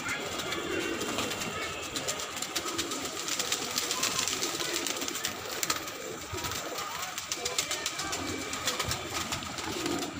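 Racing pigeons at a loft in Dholpur coo continuously in a soft, overlapping chorus, with faint rustling and flapping around them.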